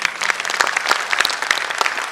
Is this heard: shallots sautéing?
no